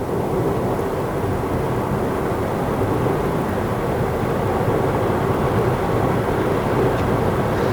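A BYD Atto 3 electric car accelerating in Eco Mode on a Malaysian road, heard from inside as a steady, loud broadband rush of road and wind noise that holds constant without pauses.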